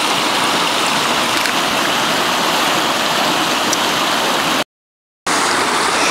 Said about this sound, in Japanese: ちょっと川の音がうるさくて、その対策をしっかりしていなかった反省があります。